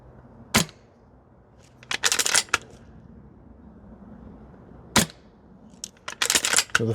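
A VFC M4 gas blowback airsoft rifle fitted with a Maple Leaf bolt action kit fires on an outdoor range: two sharp single cracks several seconds apart, each followed by brief rattling clatter.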